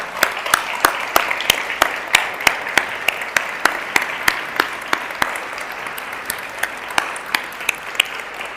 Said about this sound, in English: so one big applause for them